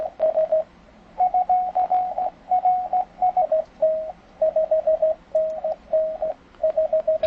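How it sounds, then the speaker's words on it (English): Morse code CW tones from an amateur radio receiver, a single steady pitched beep keyed in short and long pulses with gaps, clear over a quiet, faint background hiss. "all I hear left is the CW tones"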